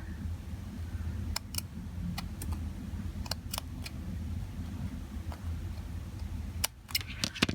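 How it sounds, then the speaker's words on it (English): Scissors snip into backing fabric for a handmade Santa gnome, giving sharp, isolated clicks spaced irregularly over a low steady room hum, close and fairly quiet. "So I'm going to once again cut into the backing fabric."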